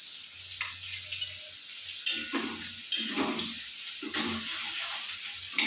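Cumin and mustard seeds sizzle and crackle in hot oil in a pan, a steady frying hiss punctuated by several sharper bursts of spattering, close by.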